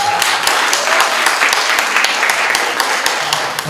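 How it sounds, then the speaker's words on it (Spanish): Loud audience applause at a social conference panel on children's and adolescents' rights, dense clapping from many hands continuing throughout at close range. "Les pedimos un fuerte aplauso para Israel Rivera."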